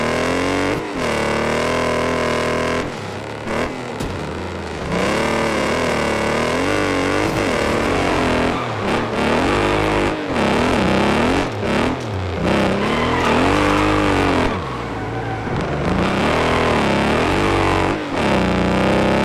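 Engine of the Crusader car in the Wreckfest 2 racing game revving and changing pitch repeatedly, loud and continuous, with rising and falling sweeps and occasional skidding throughout, no talk.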